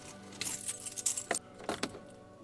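Keys jingle and a BMW ignition is switched on with a short rattle and click, followed by a second brief clatter, close and moderately loud with no talking.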